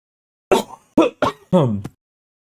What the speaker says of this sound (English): Trying to get rid of this cough